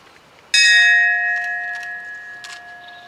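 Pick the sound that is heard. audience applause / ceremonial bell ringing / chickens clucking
ceremonial bell ringing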